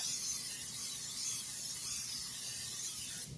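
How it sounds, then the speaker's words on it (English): A continuous hissing spray from an aerosol can of cooking spray into a slow cooker, held close and steady for a few seconds before cutting off. "I'm going to go ahead and spray my crock pot"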